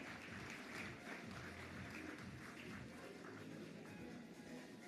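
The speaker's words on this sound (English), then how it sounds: "let the applause continue" Audience applause at a brand awards ceremony, a steady, dense wash of clapping that holds evenly throughout at moderate distance.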